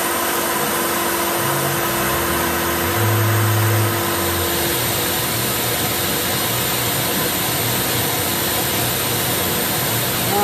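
CNC machine milling a knife blade: a loud, constant high-pitched mechanical whine and hum with steady motor drone, unbroken throughout, no talking.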